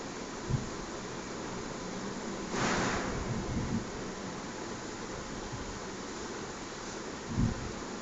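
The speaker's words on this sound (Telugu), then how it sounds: "గాలి బాగా వేస్తుంది బయట వాతావరణం కరెక్ట్." Wind blows outdoors as a steady, fairly quiet broadband rush, with a stronger gust swelling around the third second and a couple of brief low buffeting thumps.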